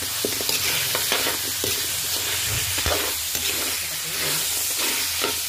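Beans being stirred and mixed in a hot frying pan, a steady sizzle with repeated scraping strokes of the spoon across the pan throughout, fairly loud and close with no talking.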